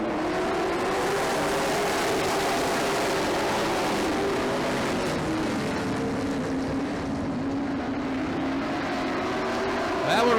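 Grand National race cars lapping an oval track, a constant loud engine roar with a steady drone and shifting pitch as the pack passes, while a voice talks over the noise throughout.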